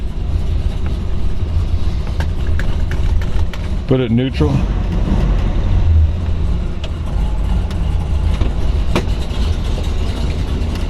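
A 1970 Plymouth Road Runner Superbird with a built-up 440 Six-Pack V-code engine and 4-speed idles with a steady, lumpy low rumble throughout, while someone talks over it.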